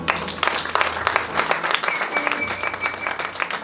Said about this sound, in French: Est-ce qu'on peut acclamer les sœurs?